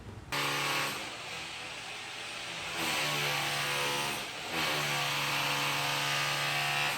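Loud, sustained power-tool drilling during a home renovation in Florida, with a droning motor whine, nearby, continuing with small shifts in pitch and brief dips.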